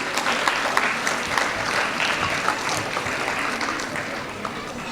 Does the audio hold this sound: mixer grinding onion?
no